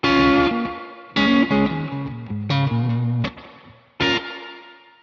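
Electric guitar played through a UAFX Golden spring reverb pedal on its bright blackface setting: a few loud strummed chords and notes, each ringing out into a shimmering, lingering tail, with no talking.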